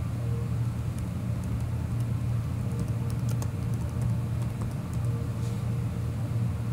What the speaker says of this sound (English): That typing is my computer.